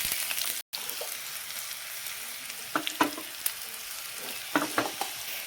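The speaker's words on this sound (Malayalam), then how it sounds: "ചെറിയ ഉള്ളി ഒന്ന് അരിഞ്ഞിട്ട് നമുക്ക് താളിച്ച് കേൾക്കാം കേട്ടോ" Three or four chopped shallots frying in a tablespoon of coconut oil for tempering, a steady crackling sizzle with scattered sharp pops and spoon scrapes, briefly interrupted by a short gap.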